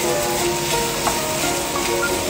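Eggs frying in a pan, a steady hiss of sizzling with soft stirring scrapes, close and continuous, no voices.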